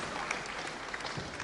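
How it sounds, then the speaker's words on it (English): A crowd applauds at a wrestling bout, a steady, moderately distant wash of clapping with no break. "I'm sure Brian Crabtree will ask for a special applause here."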